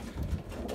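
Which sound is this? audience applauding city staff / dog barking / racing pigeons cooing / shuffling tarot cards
racing pigeons cooing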